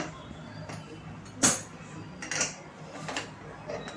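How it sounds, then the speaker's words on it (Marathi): A metal pressure cooker lid is set in place on a cooker of coconut rice on a gas stove, giving one sharp clink followed by a few softer metallic taps against quiet kitchen background noise. "आता मी कुकरचं झाकण लावलेलं आहे."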